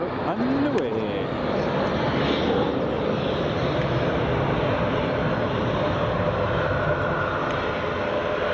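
A CityFlyer aircraft taking off from Edinburgh Airport runway 24 gives a sustained, even jet roar throughout, with a brief voice near the start.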